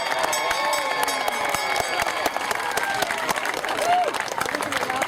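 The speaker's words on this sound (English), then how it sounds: "Let's see if Liz wants a little more applause from you guys." An audience at an elephant show claps steadily and loudly throughout, a dense continuous applause with sharp claps standing out near the listener.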